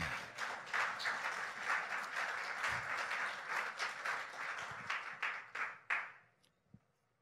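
A church congregation applauds during a sermon, steady, close, crowded clapping that swells in uneven bursts, then quickly thins out and falls quiet, with a few last claps.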